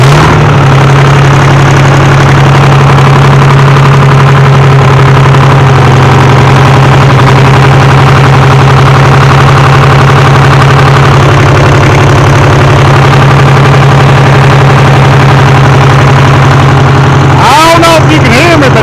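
A sawmill's engine runs at a steady, loud idle, droning close and unbroken for most of the stretch, before a voice cuts in briefly near the end.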